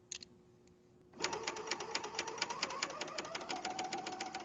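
Sewing machine stitching pajama fabric starts up after a quiet second and runs steadily, a fast, even rapid-fire clatter of needle strokes heard close and alone.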